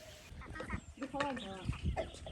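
Hens clucking in short bursts close by, with a person talking over them.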